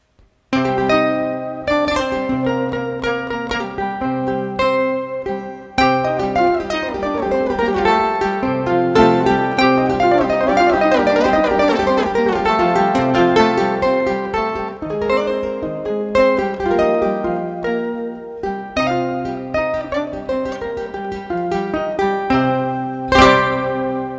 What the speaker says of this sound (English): whatever note I play, it'll take that note and it'll recreate it an octave lower